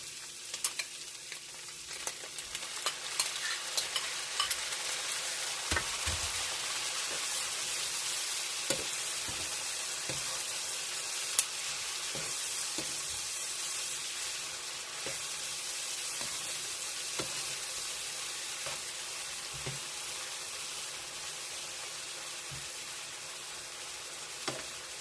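Chopped tomato stir-frying with squash and pork in a pan, a steady close sizzle with occasional stirring clinks and scrapes throughout, no voices.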